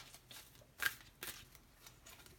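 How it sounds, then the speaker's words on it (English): Tarot cards are shuffled in quick riffling bursts, two sharper flicks standing out, soft and close with no talking. "I'm going to go ahead and shuffle right now"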